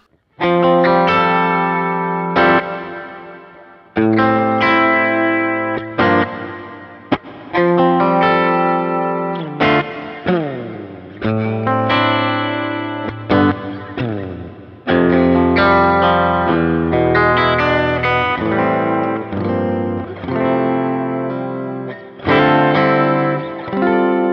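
Electric guitar played through a Kemper reverb with high damping, brightened a little: sustained chords and single notes ring out with a smooth wash of reverb tails, with short pauses between phrases and no voices.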